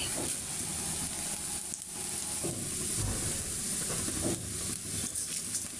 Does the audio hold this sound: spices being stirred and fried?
yes